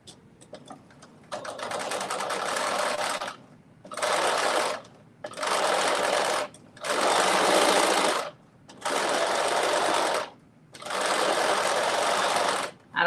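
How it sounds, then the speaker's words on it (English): Sewing machine restitching the back piece of a shirt in several bursts: one long run, then four or five shorter whirring runs separated by brief pauses, all close and steady. "So I'm about to restitch this back piece for the majority of it."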